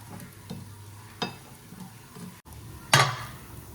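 Kunafa cooking in a buttered pan on a low flame, with a soft sizzle underneath and several sharp scrapes and clinks of a utensil against the pan, the loudest near the end, with no talk.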